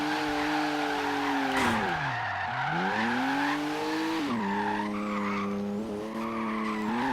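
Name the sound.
car drifting with tire squeal in video game Forza Horizon 3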